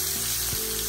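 Shrimp fry in a hot pan with a steady, bright sizzle that fills the whole moment, broken by a couple of brief clinks or scrapes as they are stirred or flipped, close and loud.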